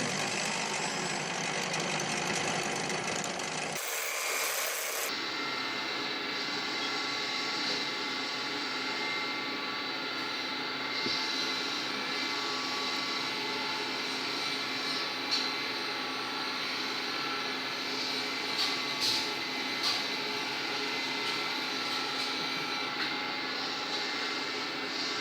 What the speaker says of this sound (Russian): Фрезеровщик Сергей ставит, крепит головку и приступает к вскрытию трещин.